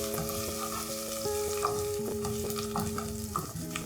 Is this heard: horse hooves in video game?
no